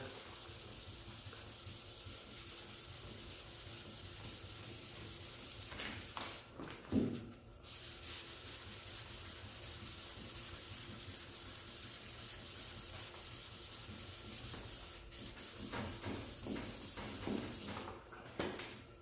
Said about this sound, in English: so I'm going to sand over to the body line